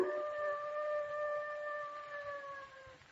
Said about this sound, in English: That sounded like a dog howling.